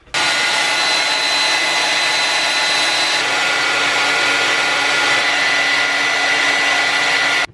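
A hair dryer blows in a steady, loud whooshing whir that starts abruptly and keeps up without change, close by, with no talking, used as a heat tool on a 3D-printed helmet.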